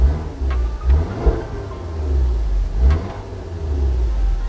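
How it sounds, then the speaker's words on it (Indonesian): Exhaust note of an Audi TT Quattro MK3, a deep low rumble with several short throttle blips rising and falling over a steady idle, close and loud with no talk. "Sekarang gue kasih dengar sedikit lagi suara dari knalpotnya."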